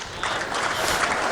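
Audience applause at a live stand-up comedy show, a steady wash of clapping hands sustained for over a second without any speech on top.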